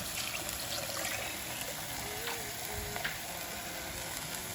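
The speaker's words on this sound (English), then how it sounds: "now that I put the broth mix in there" Beef broth pours into a pot holding grated potato and chopped carrots, making a steady, close liquid rush that fills the whole moment without a break.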